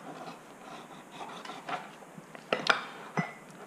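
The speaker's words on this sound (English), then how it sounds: "I'm gonna go ahead and just slice it all up right here so I have pieces so I'm not constantly picking up my knife" A knife slices through French toast on a plate, producing soft rubbing scrapes and a few sharper clinks of blade on the dish, quiet and close, without talk.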